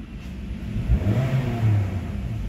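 A 2016 Honda City engine idles with a steady low rumble after its fuel pump and filter were repaired, briefly revving up partway through before settling back to an even idle, close and without talk.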